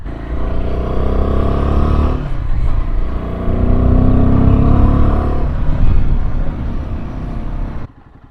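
A Royal Enfield Himalayan 450 motorcycle is ridden on the road, its close, loud engine droning and swelling through gear changes with wind rush, then dropping away sharply just before the end.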